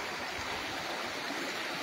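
A river runs beside a rural farm lot in Real, Quezon, giving a steady, broadband rush of flowing water that stays even and close throughout, with no voices over it.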